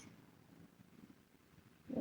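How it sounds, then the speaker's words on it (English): A young cat purrs softly and close by in a low, rhythmic rumble, faint and steady, ending with a slightly louder sound. "She's purring and giving us warning yells."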